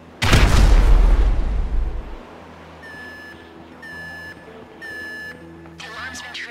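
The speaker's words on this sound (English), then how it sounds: "An explosion will tend to do that." A loud booming explosion erupts in a Grand Theft Auto V heist mission, rumbling for about two seconds before fading, then a series of repeated electronic alarm beeps follows.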